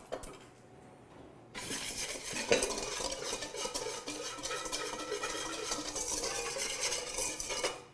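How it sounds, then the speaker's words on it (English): A whisk works quickly through spicy tahini dressing with a hint of cayenne and pepper in a bowl, making brisk, rhythmic scraping and clinking against the sides. The clatter starts after a quiet opening second and is close and steady. "I'm going to take my whisk and whisk this up."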